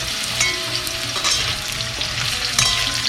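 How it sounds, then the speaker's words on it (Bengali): Potatoes frying in hot oil with black cumin, a steady loud sizzle and crackle with occasional stirring scrapes, no talking. "প্রথমে আলুটা দিয়ে ভেজে নিচ্ছি।"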